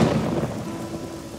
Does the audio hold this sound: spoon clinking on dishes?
no